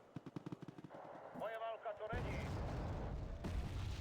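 Artillery and gunfire in a military video game: a rapid burst of shots, then a rumbling barrage of heavy blasts that fills the rest of the clip, fairly loud, with a voice partly audible.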